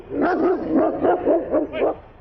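A dog barks repeatedly in a hostile greeting at the home of an alleged death squad commander, roughly six loud, close, evenly spaced barks with no talk over them.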